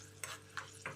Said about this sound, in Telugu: కొంచెం తాలింపు మనం బాగా వేడి చేసుకుందాం.